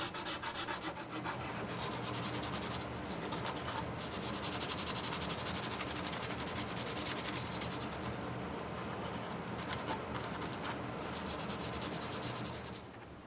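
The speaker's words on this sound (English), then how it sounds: "I'll smooth over the edges with a strip of sandpaper, making sure to get all the shredded bits of veneer on the interior side." Steady, continuous rubbing of a sandpaper strip over the veneered wooden edges of an Aeolian harp body, smoothing shredded veneer, close and constant for about twelve seconds before easing off.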